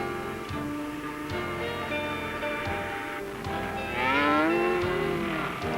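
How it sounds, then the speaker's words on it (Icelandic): A cow lows in a drawn-out moo that rises near the end, moderately close, over a steady music-like background from an animated series. "Þetta er auðvitað kýr."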